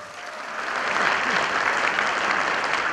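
Applause from the audience at a Korean commemorative ceremony for the anniversary of the inter-Korean summit declaration, a dense, sustained clapping that rises slightly and holds for a few seconds.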